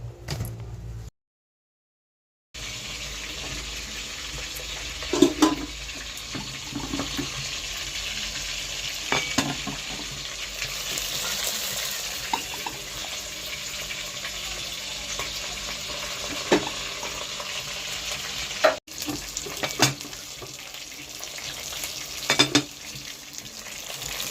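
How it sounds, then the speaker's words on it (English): Jamaican-style fish fries in hot oil, a quiet, continuous sizzle with occasional clinks, scrapes and knocks of a utensil or pan, and no talking. "I'm going to fry them for 15 minutes before I turn them."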